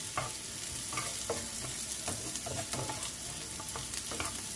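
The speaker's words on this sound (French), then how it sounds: "J'attends que mes oignons dorent et nous allons continuer la recette." Onions browning in a pan for a potato and chicken gratin, with a continuous close sizzle and frequent small crackles and stirring taps spread evenly throughout.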